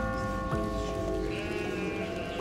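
Sheep bleat in the puzzle video game Catherine, a drawn-out wavering bleat over a dense game soundtrack, with another bleat rising partway through.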